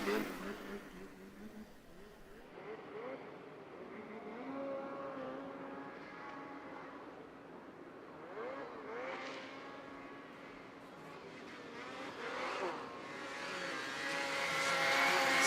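A Ski-Doo snowmobile engine revs hard on a championship hill climb at Jackson Hole, its whine rising and falling as it strains uphill, moving from distant to closer and growing loud near the end.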